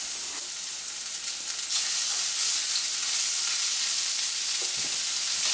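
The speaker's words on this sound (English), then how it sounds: "set them right in the oil. You should have a really nice sizzle when you do it" Venison steaks sizzle in hot canola oil in a pan, giving a loud, steady hiss and crackle that continues without a break and builds slightly partway through. No one speaks.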